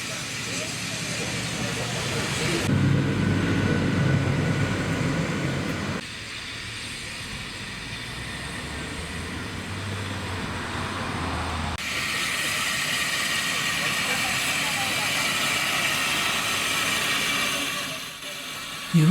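A steam locomotive on the Welshpool & Llanfair Railway, a narrow-gauge line with steep gradients, gives a steady loud rumble and hiss of running rail wagons that shifts in tone several times across the stretch.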